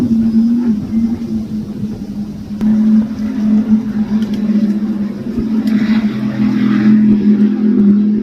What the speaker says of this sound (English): these boats are flat boogieing